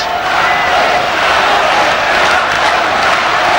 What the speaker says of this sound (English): Crowd beginning to get behind Beyer